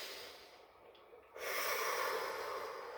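Deep yoga breathing in a calm practice space, a soft hushed inhale swelling into a louder, sustained airy exhale, close and alone with no talk.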